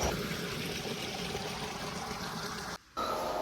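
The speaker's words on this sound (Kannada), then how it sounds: "ಈಗ ಡ್ರಮ್ಗೆಲ್ಲ ನೀರು ತುಂಬಾಕ್ತಾ ಇದ್ದೀವಿ" Water runs steadily into drums on a farm, a continuous close rushing splash that breaks off for a moment near the end before resuming.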